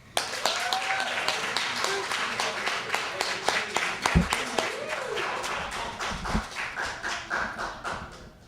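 Applause from an audience at a poetry reading in a branch library, sharp scattered claps forming a steady patter throughout, moderately near, with a few voices murmuring underneath.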